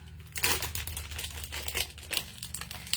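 A resealable plastic bag is handled close by, crinkling and rustling softly in short, irregular bursts.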